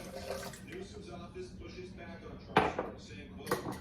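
Warm water poured from a cup into a bowl for French bread dough, a short splash with a few sharp clinks of the dishes, close by with some voice nearby.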